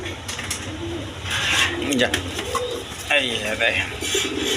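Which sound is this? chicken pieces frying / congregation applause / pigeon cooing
pigeon cooing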